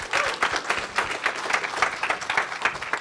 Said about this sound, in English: Let's give a big round of applause to our awesome panel